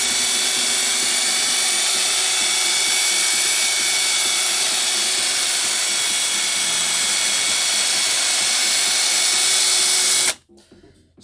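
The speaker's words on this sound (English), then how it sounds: "So I'm buffing the wax off." A power buffer whines loudly and steadily while wax is buffed off the paint of a Saab 9-3 V6 turbo, then cuts off abruptly near the end, leaving faint handling noises.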